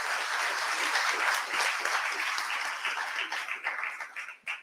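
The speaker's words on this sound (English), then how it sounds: "So a round of applause as you" A conference audience at a data engineering event in Melbourne applauds, a broad wash of many hands clapping that stays steady, then thins out into scattered claps at the end.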